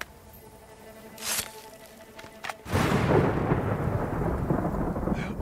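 A thunderstorm rolls through Ghost of Tsushima. Two sharp thunder cracks come first, then a loud, sustained roar of rain and rumbling thunder, with no voices.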